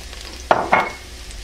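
Garlic, bay leaves and peppercorns dropped into a little hot oil, a quiet background hiss broken by two short bursts of sizzle and stirring, close by, no voices.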